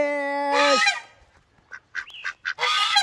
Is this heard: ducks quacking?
yes